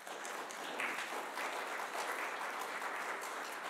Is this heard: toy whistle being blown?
no